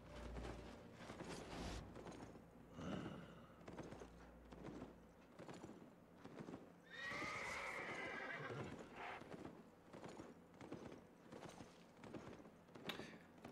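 Horses in the video game Albion Online neigh and whinny over a steady clip-clop of hooves, with a loud, bright whinny rising near the middle amid recurring hoof beats and game effects.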